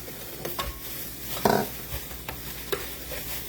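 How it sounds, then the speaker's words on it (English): Low, steady sizzle of food frying in a pan, broken by a few sharp clinks and scrapes from utensils. "this pan is pretty hot, so it's going to kind of keep sizzling"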